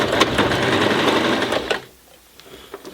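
A beginner's sewing machine stitches through eight layers of denim, a fast close mechanical whir of needle strokes for under two seconds before stopping, followed by faint clicks.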